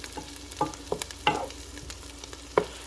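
Unsalted butter melts in a pan with a low, steady sizzle punctuated by several crisp pops and small clicks, close by and without talking.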